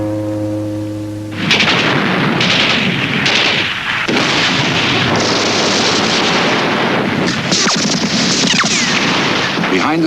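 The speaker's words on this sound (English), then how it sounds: "Behind the Soviet bombardment, Zhukov's 3rd Shock Army" Soviet artillery bombardment in archival war footage of the Battle of Berlin, with a dense, continuous roar of booming blasts and rumbling explosions filling the whole stretch after a brief low tone at the start.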